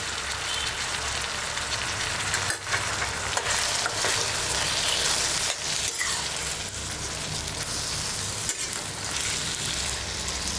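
Onions, tomatoes and ginger-garlic paste fry in a pan for a Telugu taro-root pulusu, a steady dense sizzle with occasional scraping stirs, close and continuous without talk.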